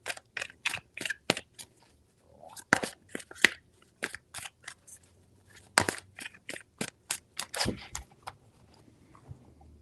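Tarot cards are shuffled in quick bursts, a crisp riffling and slapping that comes in short irregular clusters, close and fairly quiet, with small pauses between the runs.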